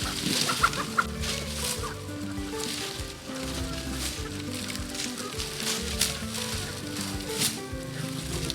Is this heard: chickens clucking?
yes